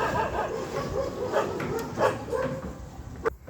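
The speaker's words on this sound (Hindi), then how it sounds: "मेरी कविता सुनकर मुकाम के कुत्ते भौंक रहे हैं" Dogs bark and yip in short, irregular bursts under a continuous background of chatter or noise. The barking is moderately loud and somewhat distant.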